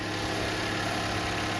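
A 2.5 litre four-cylinder engine of about 169 horsepower in a basic LE car idles steadily with a low, even hum and faint vibration, close by under the open hood, with no voices.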